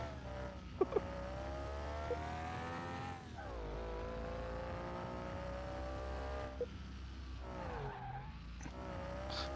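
Game car engine from a restoration video game drones steadily with harmonic revving that rises and falls, tires squealing and skidding through turns, loud and continuous with no talk.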